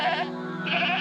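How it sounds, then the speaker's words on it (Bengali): A cartoon goat gives one short, wavering bleat, close and clear, like a cry of pain, with no other sound around it. "ছাগলের ঘর থেকে তো কান্নার আওয়াজ আসছে কেন?"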